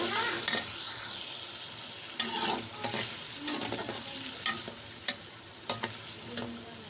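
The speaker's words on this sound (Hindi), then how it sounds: "अरबी को अच्छी तरह से जो है हम थोड़ा सा ब्राउन कर लेंगे।" Taro root pieces sizzle and frying in hot oil with stirring, scraping bursts and clatters of a utensil against the pan over a steady crackle, close and fairly loud, no talk.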